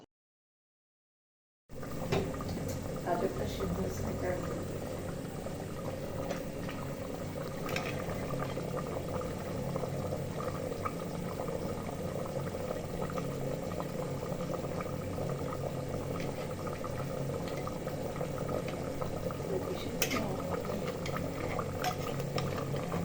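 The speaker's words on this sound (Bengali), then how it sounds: "এরপর আমি প্রেসার কুকারের ঢাকনাটা আর আটকাবো না, ঢাকনাটা না আটকিয়েই 8 থেকে 10 মিনিটের মতো জ্বালিয়ে নিব।" Beef stew bubbling in an open pressure cooker with the lid off, a steady, moderately close simmering hiss and faint bubbling that continues unbroken after a brief silent start.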